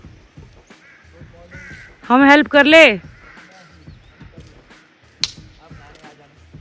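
Two loud, harsh crow caws ring out close by at a house in a forest, with people talking quietly before and after.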